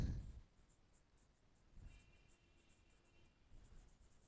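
Chalk or marker scratches across a board during a physics lesson, with faint, brief strokes at the start and a couple of soft bursts later in a quiet room.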